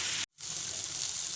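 Tomatoes cooking in a pan on a low flame, a steady close sizzle and hiss that briefly cuts out, then resumes evenly.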